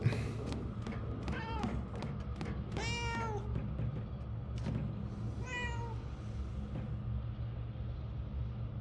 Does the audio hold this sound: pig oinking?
no